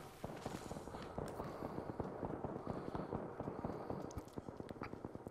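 Rapid distant gunfire from the video game Apex Legends crackles in dense overlapping bursts, a continuous popping battle heard from afar with no talk.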